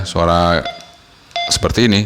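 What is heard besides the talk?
beep tone of Alinco DJ-W58 handheld radio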